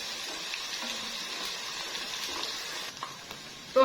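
Ginger garlic paste frying with onions in a pan for kachnar gosht, a soft, even sizzle running throughout, with a louder clatter right at the end.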